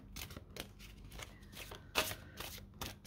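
Oracle cards being shuffled and drawn by hand, a string of soft papery flicks and riffles with one sharper snap near the middle, close and fairly quiet with no talking.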